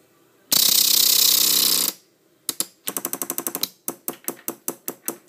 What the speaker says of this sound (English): I'm twisting on the boost knob, so I'm making some boost pressure